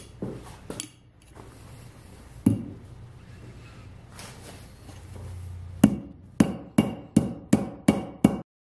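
Copper tubing being hammered flat to make a bracelet, with scattered metal strikes, then a quick run of six sharp, loud blows in steady rhythm near the end.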